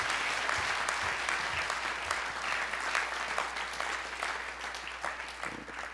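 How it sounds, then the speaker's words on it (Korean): A church congregation at a Wednesday prayer meeting applauds as a missionary is invited forward, a steady wash of many clapping hands at moderate volume that carries on throughout. "박수로."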